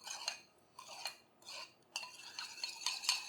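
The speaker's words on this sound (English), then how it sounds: "Go ahead and give that a little mix." A utensil stirs and clinks against a bowl of sauce ingredients, salty seasoning balanced with sugar for a pork belly black bean sauce: a series of light, bright taps and scrapes, close and fairly quiet, with no voices.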